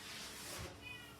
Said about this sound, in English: if you hear Jasper meowing